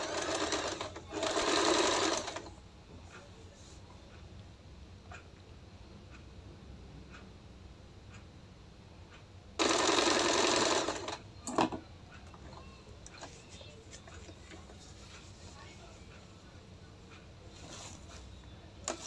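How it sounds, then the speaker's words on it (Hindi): A sewing machine stitches the edge of salwar fabric in two short, loud whirring bursts, with a third brief run between them and quiet ticking pauses in between. "सबसे पहले किनारे पर सिलाई लगाएंगे, ये एकदम बारीक और पक्की सिलाई लगानी है आपने यहाँ पर।"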